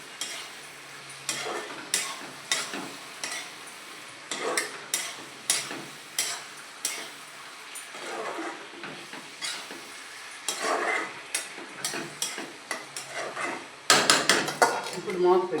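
Dried fish curry with broad beans is stirred in a pan, and the spoon knocks and scrapes in repeated sharp strikes over a soft background sizzle. A rapid burst of clatter comes near the end, with no talking.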